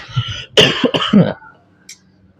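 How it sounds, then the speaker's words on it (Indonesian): A person coughs and clears their throat several times in a short, harsh burst, close and loud, followed by quiet. "Duh, batuk dikit ya, maaf."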